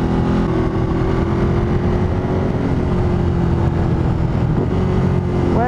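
A Ducati Monster 937 engine on the road, loud and steady with a strong droning tone and wind rush, the pitch sagging slightly as the throttle is cut for a downshift, then a brief rise near the end.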